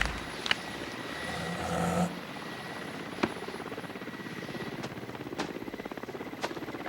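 A helicopter flies over during tracking of a tigress, its rotor producing a steady rapid chopping thump at moderate distance, with a few sharp knocks and a brief tonal sound early on.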